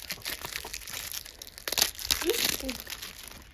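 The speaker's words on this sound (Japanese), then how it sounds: "トミカフィルムを開けて" Plastic film wrapper on a Tomica toy car box being torn open, giving close, brief crinkling and tearing bursts with quieter rustling around them, and a voice speaking nearby.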